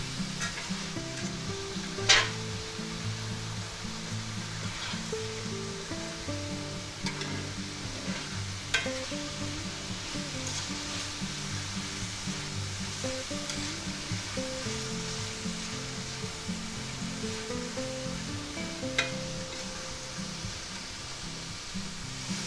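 Vegetables and garlic sizzling in a frying pan for a spaghetti dinner, a steady close crackle with occasional stirring clicks and scrapes, no talking.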